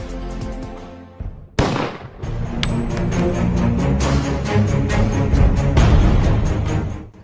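A gunshot sound effect punctuating a film trailer title card for a dangerous character named Leon: a sharp, loud crack that cuts through dense, sustained music which then swells and continues to the end.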